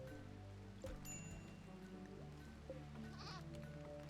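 A goat bleats in the colony game RimWorld, a few quavering cries over a constant low musical drone and soft rain-like hiss, faint and fairly distant.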